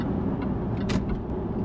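A Jaguar XF S saloon drives onto a dual carriageway, a steady low engine and road hum heard from inside the cabin, with a couple of brief faint clicks partway through.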